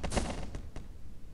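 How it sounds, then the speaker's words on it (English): Gunfire in the Melon Playground video game, a few quick sharp shots in a short burst, loud and close with no talking. "I'm going to see if it can shoot through all these people."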